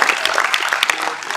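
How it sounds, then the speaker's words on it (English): Audience at a general assembly council meeting clapping in a fast, uneven burst of sharp claps, close and fairly loud, with crowd noise underneath. "Let's do one clap so we're fast"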